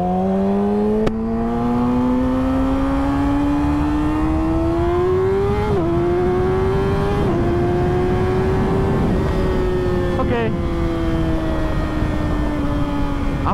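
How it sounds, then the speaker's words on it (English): A car accelerates hard up to highway speed, its engine note climbing steadily and dropping briefly at each of three gear shifts, loud and close throughout with no talking. "I'm up to the highway speed in like 2 seconds"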